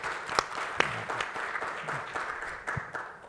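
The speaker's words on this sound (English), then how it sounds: "Please, a round of applause." Audience applause closing a panel segment at a forum, a steady wash of clapping with a few louder claps, mid-distance and continuous throughout.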